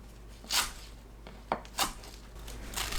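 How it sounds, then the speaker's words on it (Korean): A knife cutting garlic chives into 5 cm lengths for chive japchae gives a handful of crisp, separate thuds on a board, spaced irregularly and fairly close, with no voices. "부추를 5cm 길이로 썰어주세요."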